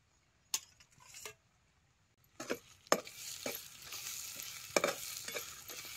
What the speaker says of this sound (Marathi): चटणी तेलात चांगली भाजून घ्यायची.